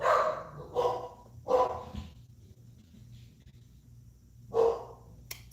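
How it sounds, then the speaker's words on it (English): Dogs bark indoors at a visitor, a few sharp barks in quick succession, a pause, then one more loud bark, fairly close. "so my dogs are going crazy."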